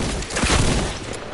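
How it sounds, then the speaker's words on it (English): A grenade explodes in Fortnite, a loud, dense blast that fills the whole short moment with a rough, rumbling burst before easing off slightly. "There's a grenade in there."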